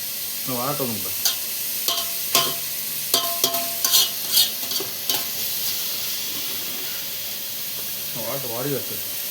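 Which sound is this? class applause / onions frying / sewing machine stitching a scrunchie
onions frying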